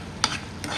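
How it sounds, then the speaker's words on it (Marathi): Masala for chole fries in oil in a pan while a spoon stirs it, giving two quick scraping strokes over a soft, close sizzle. "बघा आता मसाल्याला छान तेल पण सुटते."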